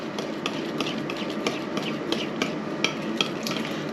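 Hot sauce is stirred into mayonnaise in a bowl, giving a quick run of soft clicks and wet scraping taps at a brisk, uneven rhythm, close by, with no talking.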